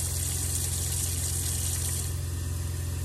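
Hot water tap running pink antifreeze into a camper sink inside a horse trailer while winterizing, a steady close hiss of flowing water over a low continuous pump hum throughout.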